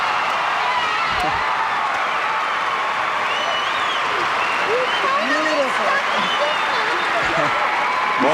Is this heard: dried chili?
no